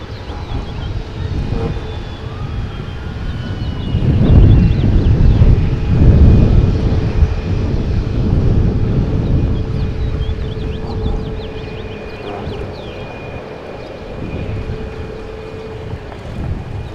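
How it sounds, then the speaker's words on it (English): An SAS airliner diverted to Milwaukee Mitchell International Airport takes off, its distant jet roar rising and fading over steady wind noise across the whole stretch. "We just had our SAS diversion from yesterday finally take off and go to O'Hare."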